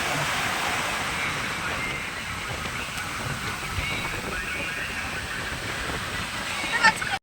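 Roaring sea waves at Puri beach, a dense continuous wash of surf noise that holds steady and loud throughout, with a brief louder surge near the end.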